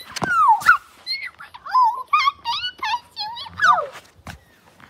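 A dog whimpers and whines close by in a rapid series of high, wavering cries and short yips, with no one talking.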